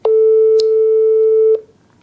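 Telephone tone while placing a call: one loud, steady electronic tone held for about one and a half seconds, with a couple of faint clicks, then cut off into near silence.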